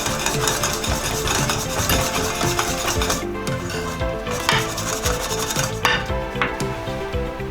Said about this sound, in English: Mix in the flour.